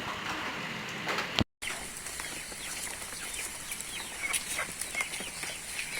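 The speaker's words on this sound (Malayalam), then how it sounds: "ഈ കാണുന്നതെല്ലാം സൈഡലി കോഴികളാണ് ഈ വശത്ത് കുറച്ച് ഗ്രാമശ്രീ കോഴികളും" Backyard chickens in a coop, a mix of country breed and Gramasree hens, cluck and rustle in a busy close-up scene with a brief dropout early on and no talk.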